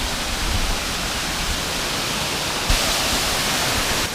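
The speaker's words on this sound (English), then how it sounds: "I'm at the foot of the waterfall." A waterfall in Shenandoah National Park roars at close range, a dense, unbroken rushing wash that swells slightly louder partway through, with no voices.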